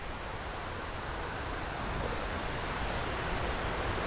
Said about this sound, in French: Je suis à 50 mètres de la cascade.